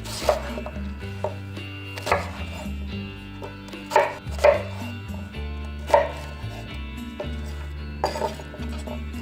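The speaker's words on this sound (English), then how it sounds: "we're going to start dicing up our onion. Now the onion is a bit different. Just going to cut it into large chunks." A knife chops an onion into large chunks on a cutting board, about a dozen sharp knocks at an uneven pace, close and clear over a low steady background hum.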